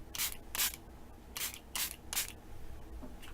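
A handheld spray bottle of fruit enzyme mist is spritzed onto a face. Five short, close hissing bursts come in an uneven rhythm, then a quieter, steady background follows with no talking.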